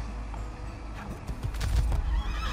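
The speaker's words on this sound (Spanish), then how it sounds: "Tú, caballo café." A horse in the video game Assassin's Creed 2 whinnies with a rising, strained neigh over steady game ambience, close and fairly loud, with light hoof clatter mixed in.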